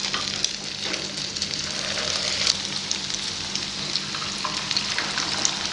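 Crispy noodle pakora frying in hot oil over a medium flame, a steady, dense sizzle with faint crackles running throughout, close and fairly quiet, with no talking.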